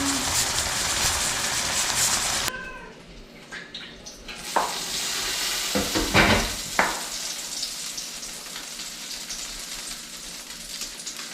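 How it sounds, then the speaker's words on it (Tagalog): Loud sizzling of shrimp paste in a pan that briefly drops away, then resumes with stirring and scraping sounds, no one speaking. "Niluluto ko na rin po yung ating alamang."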